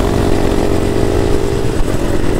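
Two CRF-style trail motorcycles rev together on a muddy trail in the rain, a loud, close, continuous buzzing engine drone with no pauses.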